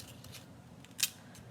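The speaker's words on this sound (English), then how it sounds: "grab your ribbon scissors to trim your tails" Ribbon scissors make a single short, crisp snip while trimming ribbon tails on a handmade card, close and quiet against a soft room hum.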